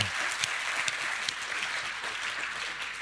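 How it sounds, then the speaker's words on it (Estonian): An audience at an investment talk gives Kristo a big round of applause, with steady, even clapping from a modest crowd that holds at a moderate level throughout. "aga teeme Kristole suur aplausi"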